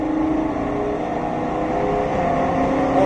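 A Shelby GT500 on a track during a driving course gives a loud, steady engine roar that holds under sustained acceleration, close and continuous with no pauses.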